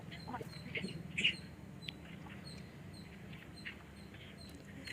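Migratory birds at the Telineelapuram bird sanctuary in Srikakulam district: faint, scattered chirps and quacking calls, some slightly nearer, over a low, steady background murmur.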